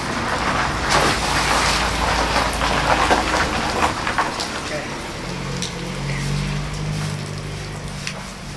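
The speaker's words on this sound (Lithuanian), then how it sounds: "Aštuntą dieną lyja." Steady rain falls outdoors as a dense, even hiss. A low rumble joins it in the second half.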